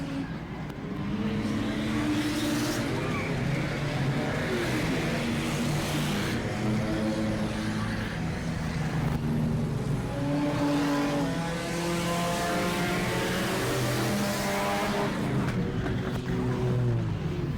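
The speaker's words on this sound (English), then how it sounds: "We still got quite a few cars going." Several race cars roar around a dirt or paved oval in a 40-lap enduro at Auburndale, engines droning steadily with rising and falling pitch as cars pass and rev, loud and continuous with no talk.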